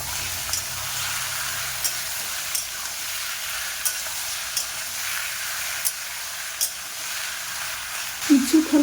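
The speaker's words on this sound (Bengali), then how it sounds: "এবার সবজি দেব। কিছুক্ষণ কষে নেব।" Vegetables with cucumber and potato are stir-fried among already fried onions in a pan, a steady soft sizzle with periodic scraping stir strokes, close and continuous, ending with a brief louder clatter.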